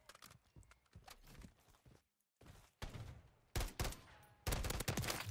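SVA 545 rifle fire in Call of Duty MW3, sharp close shots in short tapped bursts separated by brief pauses, growing louder and denser toward the end.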